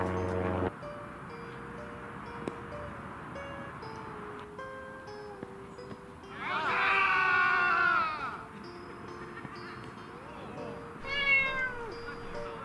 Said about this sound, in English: The cat says ridiculous.